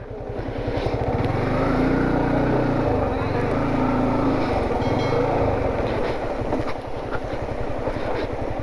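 A KTM 390 Adventure motorcycle idles and putters close by with a steady throbbing engine note while creeping downhill on a forest track, with faint voices underneath.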